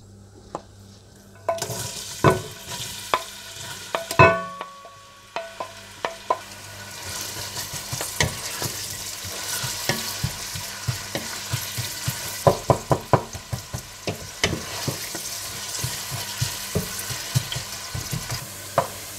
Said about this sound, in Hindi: घी गरम करके इसमें प्याज डालकर हल्के ब्राउन कर लें।